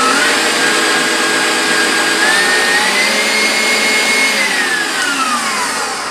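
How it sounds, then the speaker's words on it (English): A stand mixer running on high speed while mixing gingerbread cheesecake batter, a loud continuous motor whine with a slowly rising and falling pitch, steady throughout with no talking. "I'll put the mixer on high speed"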